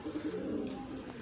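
Pigeons of old breeds kept by a breeder in Faisalabad coo softly in a low, rolling murmur, a short close-up burst with no talk over it.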